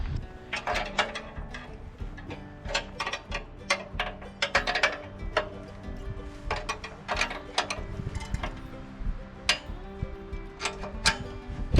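A ratchet wrench loosens the bottom bolt on a snow pusher mount, giving loud, close bursts of rapid clicking in repeated strokes with brief pauses between, and no talking.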